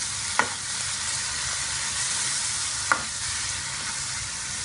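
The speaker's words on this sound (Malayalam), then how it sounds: "ഇളക്കി കൊടുക്കാം." Onion and tomato masala for butter chicken sizzling steadily in a pan, with two brief clanks of a spoon stirring it over the continuous frying hiss, close and fairly loud.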